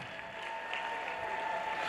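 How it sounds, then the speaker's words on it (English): Audience applause at a school showcase event, a steady wash of clapping sustained for about two seconds at moderate distance, with no voices over it. "Round of applause."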